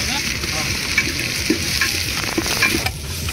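Chicken fries in oil over a gas burner at an outdoor picnic spot by a dam, a continuous close sizzle with scattered pops and stirring clanks.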